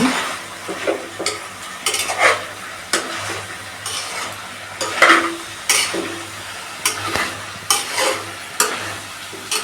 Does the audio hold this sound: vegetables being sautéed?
yes